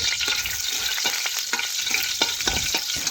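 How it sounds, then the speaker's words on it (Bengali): Dried red chilies, whole cumin, panch phoron and bay leaves fry in hot oil with a close, continuous crackling sizzle, broken by frequent small pops and spatula scrapes; no voices. "এ দেখুন কিছুক্ষণ ধরে ভেজে নিচ্ছি"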